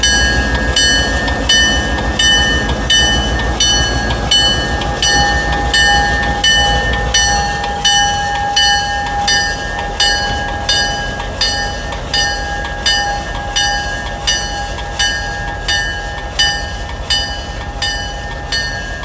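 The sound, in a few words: high hood locomotive moving at railroad museum shops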